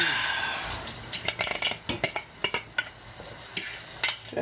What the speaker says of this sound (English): I transfer everything in the bowl.